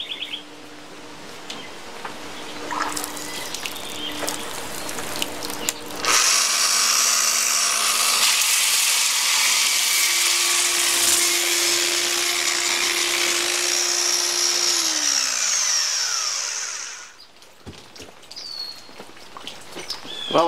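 A power grinder works steadily across a concrete countertop surface, polishing it with a loud, continuous high whine for about eleven seconds. Quieter tool noise and faint chirps come before and after the grinding.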